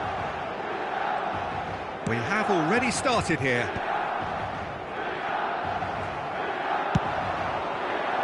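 A stadium crowd at San Siro murmurs and roars in a football video game, a dense steady wash of noise with a commentator talking over it briefly.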